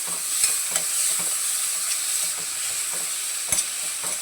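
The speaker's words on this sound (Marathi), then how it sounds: "आता मिरची लसूण चांगलं तेलात परतलं आहे आता यामध्येच कांदा टाकून देते" Onion goes into hot oil already fried with chili and garlic, giving a bright, continuous frying hiss with occasional spoon taps and stirring scrapes close by, and no talking.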